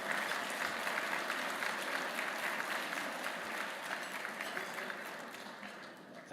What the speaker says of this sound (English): let's all give a round of applause to all of our speakers so far in this conference today